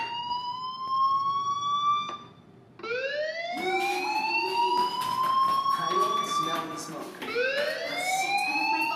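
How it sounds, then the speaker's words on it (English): A wailing fire alarm in the Life Is Strange video game, its rising electronic tone repeating in long sweeps, loud and close, with a brief dip before it starts again. "do you hear that fire alarm?"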